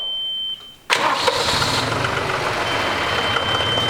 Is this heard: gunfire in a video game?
no